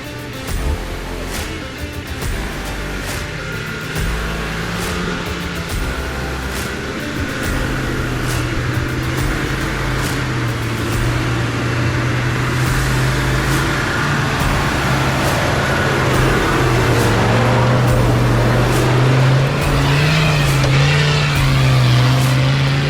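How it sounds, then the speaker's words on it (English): At an off-road event at Lost Lake, North Wales, a car engine sits on its rev limiter and pops. A loud, continuous engine drone carries rapid crackling pops throughout, with no talk. "He's on the limiter there, hear the poppy going."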